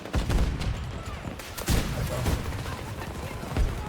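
A grenade goes off among scattered gunfire in Battlefield 2042 battle action, with sharp blasts and pops landing at irregular intervals over a steady rumble of combat noise.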